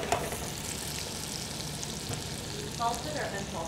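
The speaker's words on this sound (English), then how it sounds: "So we have the Trinity sauteing." Trinity vegetables for shrimp creole, onion, celery and bell pepper, sauté in a pan with a steady, moderate sizzle, a light clink and a brief scrape near the end, no speech over it.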